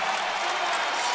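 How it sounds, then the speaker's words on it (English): Basketball arena crowd at a Marquette versus Georgetown college game roaring and cheering loudly and steadily after a player's and-one score, a dense wash of voices with no single words standing out. "and listen to the crowd"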